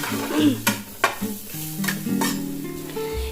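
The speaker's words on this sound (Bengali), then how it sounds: "আমি ভাজি হালকা বাটার দিয়ে বাটার দিলাম সসেসটা দিলাম" Sausage frying in a little butter with a pinch of black pepper and black salt, stirred in the pan with a few sharp utensil clacks over a low steady sizzle; background hum and tones, no talk.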